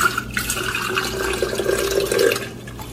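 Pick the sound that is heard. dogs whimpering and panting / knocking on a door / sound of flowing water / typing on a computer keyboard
sound of flowing water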